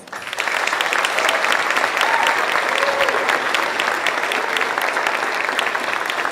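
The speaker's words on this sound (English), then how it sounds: "please join me in giving them a round of applause" Sustained applause from a large audience at a middle school banquet, dense and steady clapping that fills the room for several seconds, with faint crowd voices underneath.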